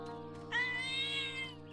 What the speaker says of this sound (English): Is there a cat over here?